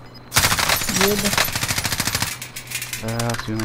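Gunfire in Call of Duty Warzone: rapid bursts of automatic shots crackle loudly in quick succession, then fade into quieter game sounds, with a short voice heard under the action.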